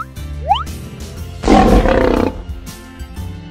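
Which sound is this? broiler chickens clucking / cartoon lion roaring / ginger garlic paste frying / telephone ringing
cartoon lion roaring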